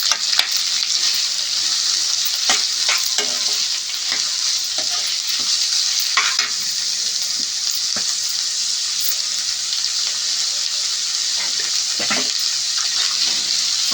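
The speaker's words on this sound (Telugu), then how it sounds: "కట్ చేసుకున్న ఆనియన్స్ కూడా బాగా ఫ్రై చేసుకోవాలి" Onions sizzle steadily in a pan, a constant hiss broken by occasional clinks and scrapes of stirring.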